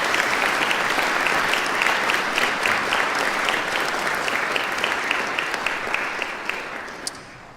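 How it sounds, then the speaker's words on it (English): Audience at a university music department commencement ceremony applauding, a full dense clapping from many hands that holds steady, then thins and fades out near the end. "Let's please give Dr. Hogg a round of applause in his absence."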